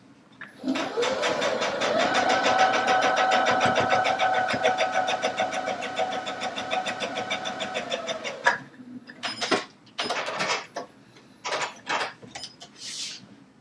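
A Baby Lock Allegro sewing machine stitches a seam in one steady, rapid whirring run of about eight seconds. A few shorter mechanical clicks and thumps follow close by.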